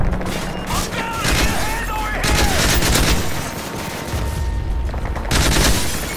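Automatic gunfire in a Modern Warfare 3 Spec Ops firefight, rapid loud bursts of shots crackling almost continuously with booms, with shouted voices mixed in.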